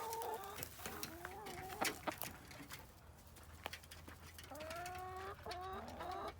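Several hens cluck and warble in bursts near a hen house, with scattered clicks and knocks and a low hum underneath.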